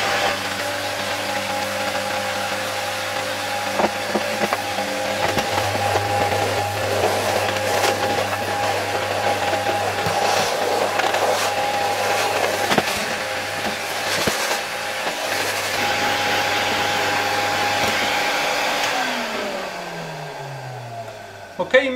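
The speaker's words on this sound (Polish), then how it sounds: "No i teraz mogę spokojnie już też ten element odkurzyć." A 1972 Zelmer 01A vacuum cleaner with a type 34 motor runs steadily with a loud whining hum while a part is vacuumed, and the motor winds down near the end.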